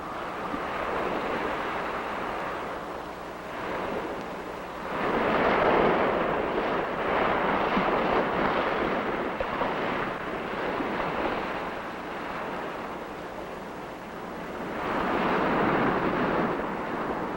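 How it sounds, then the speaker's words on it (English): Waves rolling onto a shore in long, swelling surges that rise and fall, a steady wash of noise with no voices. "Do you hear the waves bringing him nearer?"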